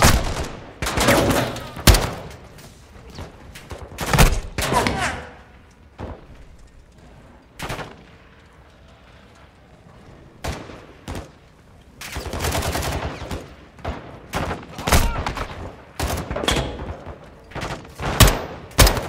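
Bursts of automatic rifle fire and single shots crack through a Modern Warfare 2 campaign battle, arriving in dense clusters with brief quieter gaps between volleys.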